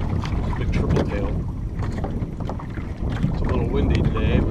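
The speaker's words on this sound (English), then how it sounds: "It's a little windy today" Wind buffets a small fishing boat on open water, a constant loud rushing roar with rumbling gusts and splashing, and faint talk underneath.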